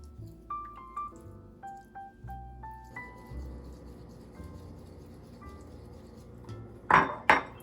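A spoon mixes sesame oil sauce for a hotpot dip in a bowl, striking a run of bright ringing clinks that taper off, then a pair of louder knocks at the end, close and quiet otherwise.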